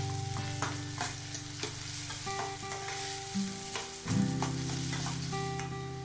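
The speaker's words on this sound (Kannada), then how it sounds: "ಕಾದ ಎಣ್ಣೆಗೆ 2 ಮಧ್ಯಮ ಗಾತ್ರದ ಈರುಳ್ಳಿಯನ್ನು ಸ್ಲೈಸ್ ಮಾಡಿರೋದನ್ನು ಅದಕ್ಕೆ ಹಾಕಿಬಿಟ್ಟು ಒಂದು 2 ರಿಂದ 3 ನಿಮಿಷ ಅದನ್ನು ಫ್ರೈ ಮಾಡ್ಕೊಳ್ಳಿ" Two medium sliced onions fry in hot oil for an egg tomato masala, giving a steady close sizzle with scraping stirs, under background music.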